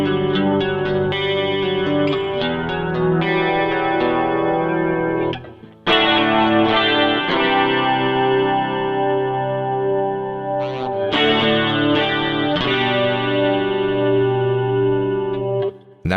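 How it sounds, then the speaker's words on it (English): Electric guitar through the Rockman X100 Clean 1 patch on a Line 6 Helix, chorused and echoey with cabinet emulation, playing sustained ringing chords in phrases, with brief breaks between sections. "we have the clean 1 tone. This is similar to the clean 2 tone, except it now runs through a speaker cabinet emulation"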